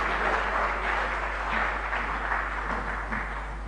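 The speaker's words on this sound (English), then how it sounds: "Please welcome him with a round of applause" An audience applauds as the Minister for the Northern Region of Ghana is welcomed, a steady, fairly dense clapping over a constant low electrical hum, slowly easing off toward the end.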